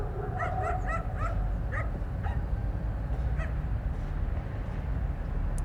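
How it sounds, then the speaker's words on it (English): Several dogs bark and yip in a layered sound effect, a cluster of sharp barks early on followed by scattered yelps and whimpers over a dense, rumbling ambient bed. "I love barking dogs. I use barking dogs all the time."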